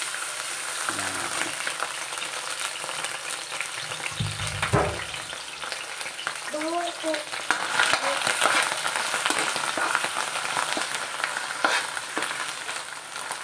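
Okra and bagoong fry steadily in a pan with a constant sizzle and hiss, while a spoon scrapes and clatters through the food being stirred.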